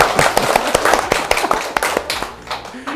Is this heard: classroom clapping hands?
yes